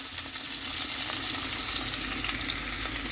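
Chopped onions hitting hot oil in a pot, setting off a steady, close sizzle and crackle with a constant hiss that holds through the whole stretch and has no talking over it.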